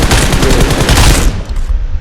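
Rapid automatic gunfire in the BGMI video game, fired with a red dot sight: a loud, dense burst of shots in quick rhythm that stops abruptly after about a second and a quarter.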